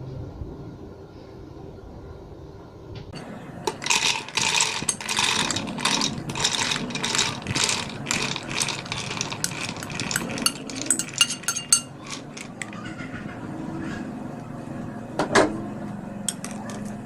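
A kitchen food chopper grinds chickpea kebab ingredients with egg and green chili in rapid bursts of ratcheting, whirring clatter, close and loud, then slows and stops near the end.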